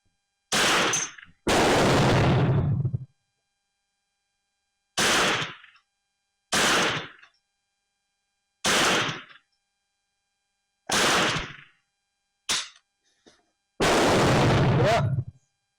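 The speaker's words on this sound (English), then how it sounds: "I'm going to shoot the bottom target again." Remington Nylon 66 and a CBC Nylon 66 clone .22 rifle fired at a target outdoors, giving loud single shots spaced several seconds apart, some with longer booming tails, standing alone without talk.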